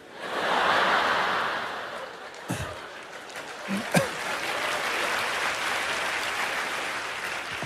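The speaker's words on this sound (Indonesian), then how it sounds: "Kenapa dia tepuk tangan?" Audience clapping at a church worship service, a soft swell of many hands rising and fading, then a sparse stretch with a couple of louder knocks before a steadier wash of clapping returns.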